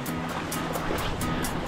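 Ocean surf at a beach in Bermuda washes in a continuous, close, broadband rush, with wind buffeting the microphone and no voices.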